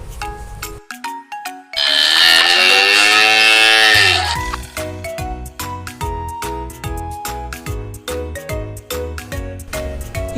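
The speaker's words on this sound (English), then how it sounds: "Buffalo." A buffalo lets out one long, loud, drawn-out moo in the middle, framed by bright chiming music, a ringing tune that plays before and after the call.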